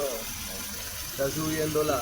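Water gurgling and rising inside a car's cooling system as it is filled during testing for a cracked cylinder head, a close, bubbly trickle that swells near the end.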